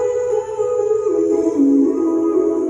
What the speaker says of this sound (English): Throughout the Wind God song, there's this recurring melody that's being played by these very breathy vocals